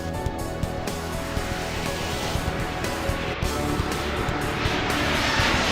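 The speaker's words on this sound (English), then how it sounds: "clear for takeoff, runway 36." An airplane takes off in the airport simulation game Airport Madness 3, a loud continuous roar of jet engine and rushing air that swells slightly toward the end, with no voices during it.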